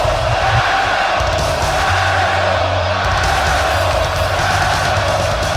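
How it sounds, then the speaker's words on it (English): A wrestling crowd at a live show roars and shouts in a steady, dense wash of cheering and bellowing voices, loud and continuous throughout with no single voice standing out. "And this crowd letting them have it here tonight."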